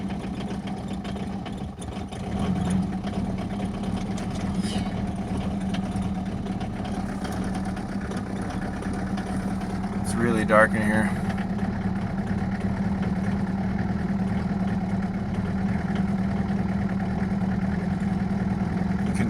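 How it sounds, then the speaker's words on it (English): Chevrolet S10 pickup with a 2.2-liter turbo diesel engine idling steadily, a low, even rumble with slight unevenness from a missing cylinder, near and continuous; someone speaks briefly early on. "I'll shut off the fan so you can hear the engine."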